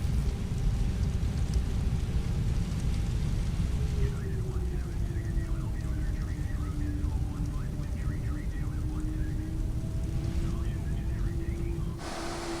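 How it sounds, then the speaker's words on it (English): Steady rain patters on an Airbus A320neo cockpit in Microsoft Flight Simulator while taxiing at Denver, a broad continuous hiss over a low engine drone with a faint tonal hum, running unbroken and fairly loud throughout. "I hear the rain, but I don't see it."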